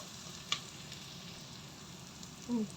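Onions with salt sizzle quietly in a pan for a potato and green peas curry, with a soft steady frying hiss and a brief clink of the stirring spoon near the end.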